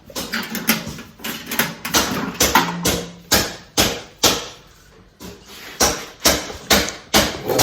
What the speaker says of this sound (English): I'm gonna hammer this with the hammer.